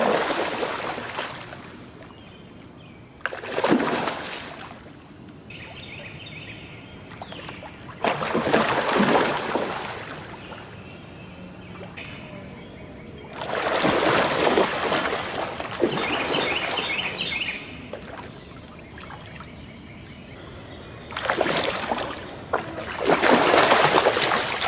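Carp breaking the water surface beside a pier, giving several separate splashy bursts spaced seconds apart, with quiet outdoor ambience and birds chirping faintly between them.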